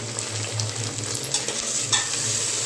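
Chopped tomatoes are stirred into a sizzling stuffed brinjal curry, Andhra style, heard as a steady close frying hiss with a couple of soft scraping strokes in a short burst.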